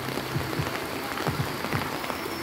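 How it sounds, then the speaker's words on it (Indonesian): Rain falling steadily in a village, a constant close hiss with irregular soft drips and patters on a surface, no voices. "Suasana hujan yang sangat sahdu banget ya."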